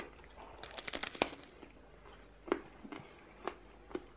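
Crisp crunching bites into the hard black candy coating of a candy apple, a quick cluster of crackles followed by a few separate louder crunches close to the mic.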